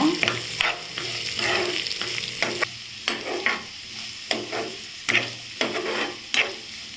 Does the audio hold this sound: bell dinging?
no